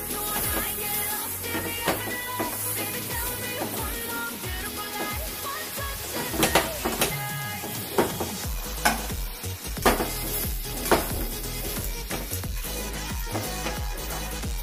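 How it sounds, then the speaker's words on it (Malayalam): Tapioca and grated coconut stirred in a hot frying pan, a steady close sizzle with repeated scraping and clinking strokes of the spoon, loud and without talk. "അതൊന്ന് ഇളക്കാം."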